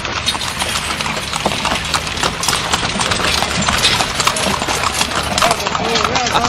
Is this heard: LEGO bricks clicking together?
no